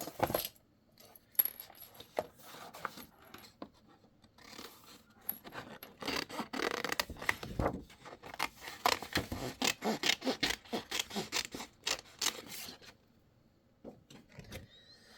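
Scissors cut out a paper cutout up close, first in scattered snips, then in a dense run of rapid, crisp rasping cuts before stopping near the end.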